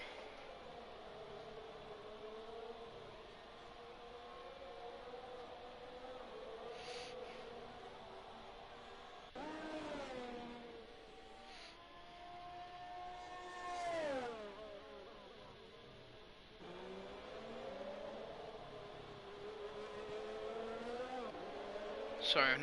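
A racing car on a flying lap in a racing video game at the Mexico track, its engine note rising and falling through gear changes and corners, running steadily under commentary talk.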